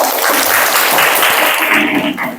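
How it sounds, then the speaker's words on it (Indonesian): A classroom of children applauds loudly after singing a national song, a close, dense burst of clapping that tapers slightly at the end. "Tepuk tangan."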